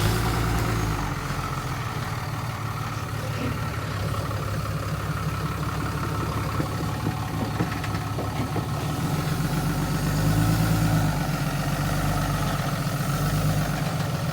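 A pickup truck engine idles steadily at close range with a low, continuous rumble that swells slightly near the end.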